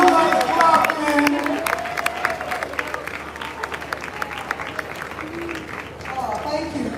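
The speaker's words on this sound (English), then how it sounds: "are you guys clapping? Are you guys clapping?" An audience claps continuously in a hall, with steady crowd applause and some cheering running under a speaker's voice for the whole stretch.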